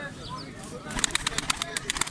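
Pigeons flutter and coo nearby, with rapid rhythmic wing-flapping bursts in the second half over a faint background murmur.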